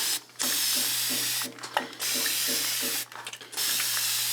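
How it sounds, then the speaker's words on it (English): A hand spray bottle mists water onto fabric before cross-stitching: three quick hissing bursts, each a short whoosh of fine spray, loud and close with steady background hum between. "I don't want wrinkles, but I do want it to be damp, at least damp. And so I'm gonna spray this down."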